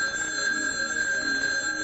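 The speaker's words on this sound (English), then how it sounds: "The phone's ringing." A telephone rings in a home in a sitcom scene, a steady electronic tone held clearly over a quiet background, with no one talking during it.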